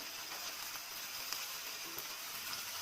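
Fish slices coated in chilli masala sizzle gently in a pan of mustard oil, a steady soft frying hiss with faint crackles throughout, no voices.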